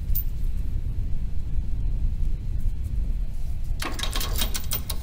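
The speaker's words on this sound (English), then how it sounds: "Rattling cages." Cages rattling in a wizard's tower menagerie, a fantasy RPG sound set: a steady low rumbling bed with fast rattling clatter throughout, then a sharper burst of metallic rattles near the end.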